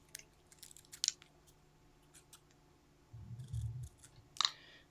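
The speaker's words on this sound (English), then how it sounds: "I'm going to cut around the shape I've just drawn, and as I'm doing so I'm cutting through 2 layers of paper" Scissors snip through two layers of paper during a textiles lesson, with a few sharp close cuts and a longer crunching cut, quiet between strokes and with no talking.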